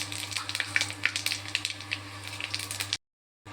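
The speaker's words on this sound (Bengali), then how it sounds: "তেল গরম হয়ে গেছে, দিয়ে দেবো একটা শুকনো লঙ্কা, দুটো তেজপাতা," A dried chilli and bay leaves dropped into hot oil in a pan for a vegetarian kochu shak dish, a steady crackling sizzle with small popping spatters, close and fairly loud, cutting off abruptly near the end.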